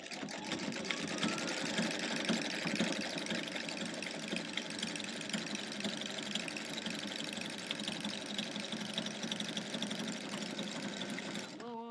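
A sewing machine stitching a lap quilt runs steadily and close, a continuous rapid mechanical whirring chatter with no breaks for about twelve seconds, faint background voice possible but mostly machine.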